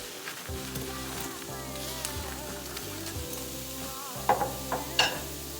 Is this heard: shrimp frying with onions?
yes